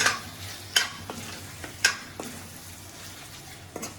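Pork with sesame fries in a pan under a low, steady sizzle, broken by a few sharp clanks and scrapes as a utensil stirs the meat.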